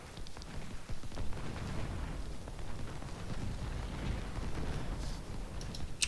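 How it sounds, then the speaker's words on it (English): Cannon artillery booms and rumbles through a Second Bull Run video game battle, a continuous low heavy roar of distant firing with a sharper crack at the end. "Cannons are taking some"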